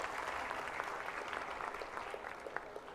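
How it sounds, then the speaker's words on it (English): A hall audience at a youth consultation event held at a medical institute in Rishikesh claps for guests on stage, a fairly faint, even wash of applause throughout. "May we have a big round of applause for all the esteemed guests gracing the stage."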